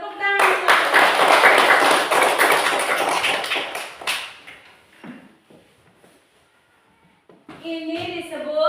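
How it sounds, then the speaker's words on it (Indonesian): Children in a classroom clap their hands together in a loud, busy burst that thins out into scattered taps and thumps, then quiet, before voices return at the end. "Iya, tepuk tangan."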